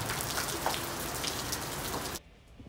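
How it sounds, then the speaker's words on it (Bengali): Steady, dense downpour of heavy rain hissing across a surface, loud and continuous, then cutting off abruptly near the end. "ঝুম বৃষ্টি হচ্ছে"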